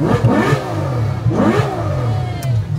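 A car engine revving hard, two rising surges of a mid-pitched engine close by with some clatter, no voices over it.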